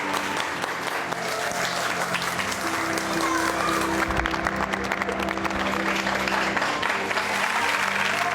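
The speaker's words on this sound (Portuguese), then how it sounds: "Vamos bater palmas para o Ayrton Senna?" Audience applause honouring Ayrton Senna at a Brazilian sports tribute, sustained dense clapping from a large crowd with some cheering, loud and steady throughout.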